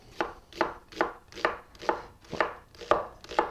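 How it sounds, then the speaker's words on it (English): An onion is cut with a knife on a board in eight evenly spaced, crisp chops, each a close, sharp thud-and-crunch in a steady rhythm, with no talking. "Cut the onion"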